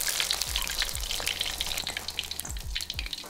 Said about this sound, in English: Now we'll add the second half of the chicken and fry for 20 to 30 seconds.